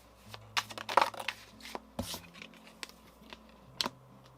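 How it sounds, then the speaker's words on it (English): Tarot cards are shuffled by hand close up, giving irregular soft riffling, tapping and snapping bursts over a low hum, with no talking. "as I'm kind of like shuffling the cards here"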